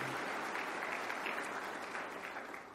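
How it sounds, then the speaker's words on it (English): A dinner audience at a veterans' tribute event gives a round of applause, a dense roomful of clapping that holds steady and then begins to taper off toward the end. "If we could give a big round of applause."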